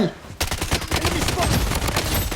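Rapid Uzi submachine gun fire in the video game Blood Strike, a loud, close, continuous burst of rattling shots that starts sharply and keeps going to the end.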